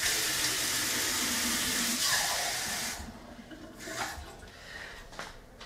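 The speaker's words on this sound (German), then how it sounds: "Ich gebe jetzt ungefähr 200 Milliliter kaltes Wasser mit dazu." Cold water poured from a tap into a bowl of minced meat filling for Tschebureki dumplings, a steady broadband splashing stream for about three seconds, then quieter trickles and handling noises close by.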